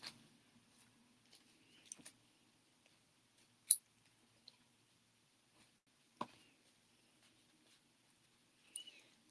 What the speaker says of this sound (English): Just like to cut those at an angle.